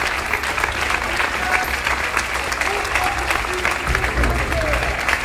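Sustained audience applause during a played music performance, a steady, loud, unbroken roar of many hands clapping together with a faint crowd murmur underneath.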